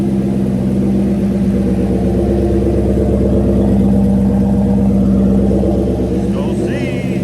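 A turbocharged 2018 Ford Coyote V8 with a 10-speed runs steadily with a loud, deep rumble throughout, the hood off, while faint voices are heard.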